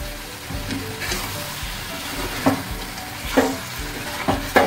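Tomatoes fry and are stirred for chicken biryani, a steady close sizzle broken by several sharp scrapes of the spoon against the pan.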